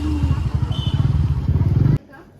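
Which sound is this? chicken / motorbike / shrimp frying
motorbike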